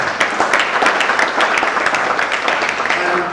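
Audience applause at the world premiere screening during a global youth film festival, a steady dense patter of clapping filling the whole stretch at moderate loudness.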